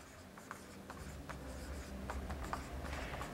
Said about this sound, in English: Let me write it on the board for you guys.